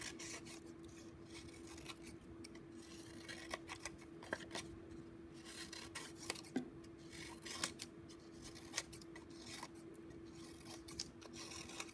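Scissors snip paper pieces for a collage, giving quiet, close, irregular clicks and rustling cuts scattered over a faint steady hum, with no speech.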